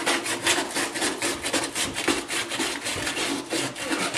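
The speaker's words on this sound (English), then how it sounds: "I'm just going to take some sandpaper, clean this off as best I can" Sandpaper rubbed back and forth over a bathroom vanity surface, a rhythmic close scratchy rasp repeating in quick strokes without pause.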